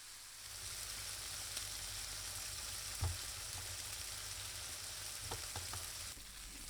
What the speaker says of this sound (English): brown the meat like you never did before. Don't move the meat around the pan for a while.